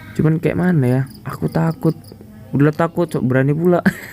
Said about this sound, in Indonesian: suara jangkrik tuh guys